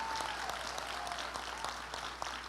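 A church congregation claps in sustained applause, a continuous close patter of many hands at steady level, with a faint voice or tone briefly audible underneath.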